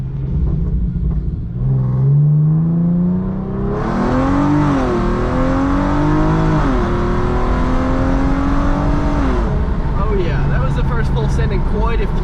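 Hyundai Genesis Coupe engine revving hard under acceleration, a loud rising pull that climbs through the gears with a brief dip, then drops off near the end into lower rumble; a voice speaks briefly early on.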